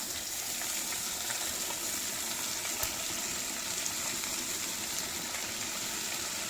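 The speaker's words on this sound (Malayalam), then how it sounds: "അരിഞ്ഞു വെച്ച പയറ് വെച്ച് കൊടുക്കാം." Chopped long beans fry in oil with mustard seeds, curry leaves and chilli for an Onam feast side dish, making a soft, even, continuous sizzle with no talk.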